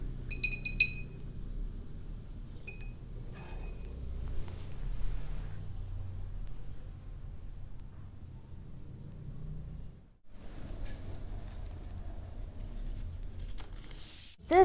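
Paint and oil mixture stirred in a glass jar, with a few light clinks of the utensil against the glass at the start, then a low, steady swirling rumble of liquid close by, no voices.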